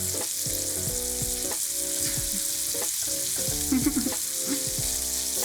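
Food sizzles in a pot for low FODMAP lentil soup, a steady, dense frying hiss with occasional scraping stirs from a utensil, close and continuous without talk.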